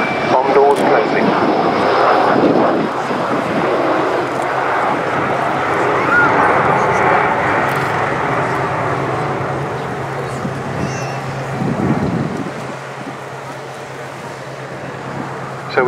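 An Avro Vulcan XH558 jet bomber roars steadily overhead at RIAT 2012, a loud broadband rumble that slowly fades, with a dog yapping briefly in the background.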